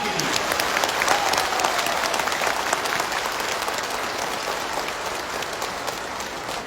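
Sustained loud applause from a large crowd at a national convention hall in Patna, Bihar, a dense, even clatter of clapping that fills the whole stretch without pause.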